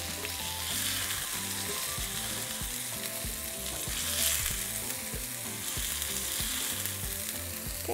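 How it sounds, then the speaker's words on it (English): Onion and garlic cloves sizzle and fry steadily in a pan, a close, continuous crackle with small bursts of popping and no voices. "now we're going to be frying a small piece of onion and 2 garlic cloves"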